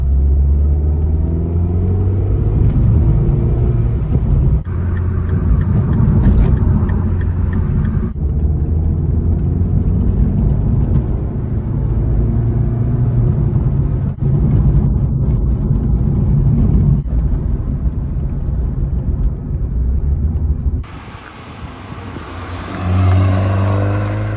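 A Mini JCW hatchback's engine drones steadily at close range, rumbling and straining while driving uphill for a long stretch before easing off near the end.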